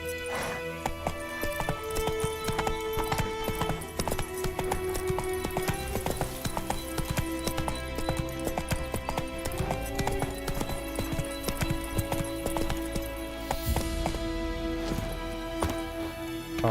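Steady clip-clop of horse hooves at a trotting rhythm in the video game The Witcher, alongside game music and effects, with an occasional whinny.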